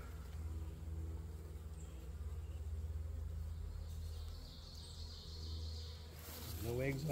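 Honeybees, including drones, buzz at an open hive during a midsummer apiary inspection, a steady close hum over a low rumble that swells slightly near the end.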